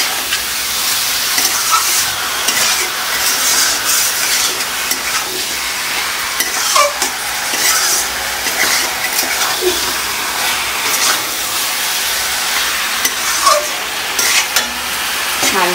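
Country chicken stir-frying slowly in a pan, a steady close sizzle and hiss with occasional scrapes and stirs, no talking.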